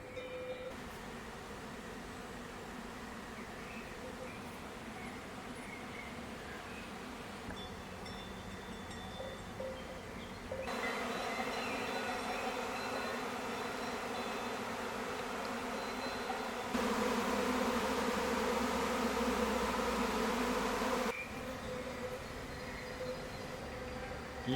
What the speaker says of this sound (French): Il y a quelques heures, cet essaim s'est installé dans un merisier.